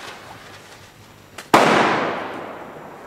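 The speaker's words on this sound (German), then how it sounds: "Das sind belgische Böller mit grauer Lunte." A Belgian firecracker with a grey fuse goes off in a single sharp, loud bang outdoors, followed by a trailing echo that fades over about a second, after a brief quiet lead-in.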